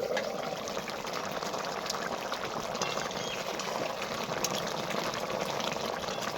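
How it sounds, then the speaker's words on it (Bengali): Potato chicken curry bubbles in a pot with a steady, soft simmering hiss and faint liquid crackle throughout, fairly quiet and close, with no voices. "খুব একটা বেশি ঝোল করব না, একটু মাখো মাখো করব, তো সেই পরিমাণে জলটা দিয়ে দেব। ফুটতে শুরু করেছে।"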